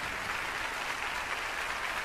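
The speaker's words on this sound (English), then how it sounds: "Give her a round of applause" An audience at a magic show applauds, a dense, even wash of clapping that holds steady throughout without voices standing out.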